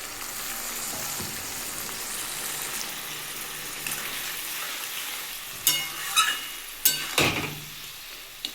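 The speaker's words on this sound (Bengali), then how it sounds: "আমি একটু নেড়ে দিচ্ছি" Spiced potatoes fry in a pan with a constant sizzle, and a few sharper stirring scrapes and clatters come near the end; close and fairly quiet, without speech.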